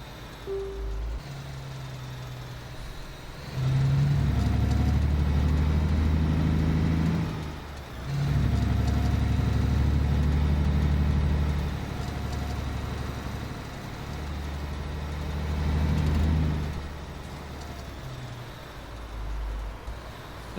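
A truck drives a curvy Alaskan road, its engine rumbling heavily in long surges that swell and fade several times over a steady background of road noise, with no talk.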